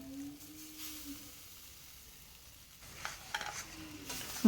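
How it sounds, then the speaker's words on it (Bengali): A spatula stirs hog plum pickle with sugarcane jaggery in a kadai, starting almost silent with a low hum, then a series of light scraping strokes building toward the end. "এইভাবেই কিন্তু খুন্তিটা সবসময় চালিয়ে যেতে হবে নইলে গুড়টা কড়ার নিচে বসে যেতে পারে"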